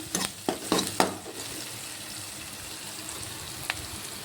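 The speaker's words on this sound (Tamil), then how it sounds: "வெங்காயம் வந்து நல்லா வதங்கி வரட்டும்" Onions sautéing in a pan, opening with several quick scraping stirs and clatters of a spatula, then settling into a soft, low sizzle with one more brief clink later.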